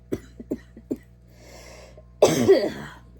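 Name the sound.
cough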